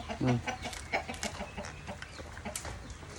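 Chickens cluck in short, irregular bursts at a Thai poultry yard. The calls are close and moderately loud over faint background noise, with no talking.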